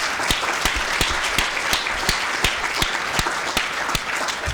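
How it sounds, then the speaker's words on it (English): Audience applause fills a student union excellence awards ceremony, a dense steady wash of clapping with a few sharper, regularly spaced claps standing out close by, and no talking. "So a massive round of applause, please."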